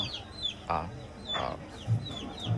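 Chickens clucking close by in short, scattered bursts, with a few higher chirps in between, near Dunn's River in Jamaica.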